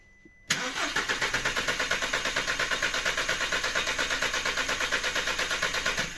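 A Volkswagen engine cranks on the starter with the gas unit disconnected for a compression test, kicking in abruptly and churning in a fast, even pulsing rhythm without catching, close and loud.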